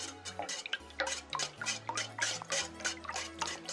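Chopsticks rapidly beating eggs in a bowl for Korean steamed eggs, a quick, wet clicking and sloshing rhythm close up, with light taps against the bowl.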